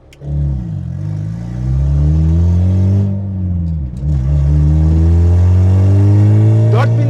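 A turbocharged 1.6-litre Honda Civic VTi engine revs loudly through its exhaust, pitch rising and falling in long sweeps with a deep droning rumble, close up.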